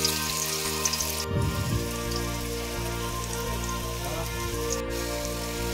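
Pieces of elephant foot yam fry in hot oil over a high gas flame, giving a steady, dense sizzle with a brief louder crackle near the start.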